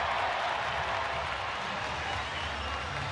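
A near-capacity baseball crowd at Globe Life Park, home of the Texas Rangers, applauds during an October night game against the Angels, producing a steady, dense wash of clapping and cheering that holds loud throughout.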